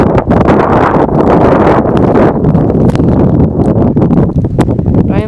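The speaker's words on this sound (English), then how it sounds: "Snow's blowing right in my face." Strong blizzard wind driving snow, a loud buffeting roar over the microphone with gusty rises and brief crackles, close and continuous, and no speech.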